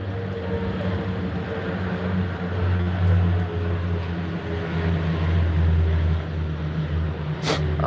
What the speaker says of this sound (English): We got these planes flying.